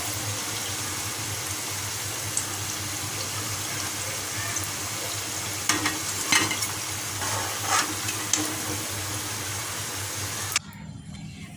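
Golden-brown chicken ring samosas sizzle in hot frying oil, a constant crackling hiss with a few utensil scrapes and clinks, until the sizzle cuts off sharply as they are lifted out.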